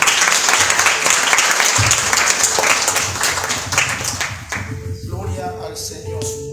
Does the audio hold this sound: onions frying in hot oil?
no